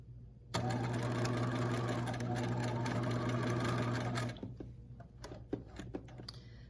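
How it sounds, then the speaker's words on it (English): A sewing machine runs in one continuous stretch for a few seconds, a steady whirring hum, then stops, followed by a few light clicks and handling noises. "You have to sew kind of slow, so that you make sure that you can smooth that out."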